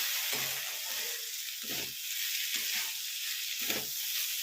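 Beet and carrot sabzi stirred in ghee in a pan gives a soft sizzle with a few slow scraping strokes, quiet and close, with no talking.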